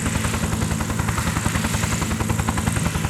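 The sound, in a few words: military helicopter flying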